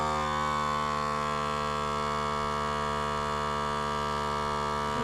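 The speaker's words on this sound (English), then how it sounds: "we stick it into the sealer to seal the back edge" A vacuum sealer sealing the back edge of a bag of cold-smoked cheese gives a steady, close electric hum with strong harmonic tones, running evenly and uninterrupted throughout.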